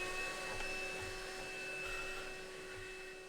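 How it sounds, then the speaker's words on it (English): A vacuum cleaner runs with a faint, steady whirring hum as it clears coffee residue from the chamber of a conical coffee grinder. "Then we will use a vacuum cleaner to clean any residue of coffee in the chamber."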